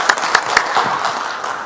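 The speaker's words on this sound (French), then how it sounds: "Eh ben, on vous applaudit." An audience applauds at a university habilitation thesis defense; scattered individual claps are followed by a brief burst of steady clapping from a small room.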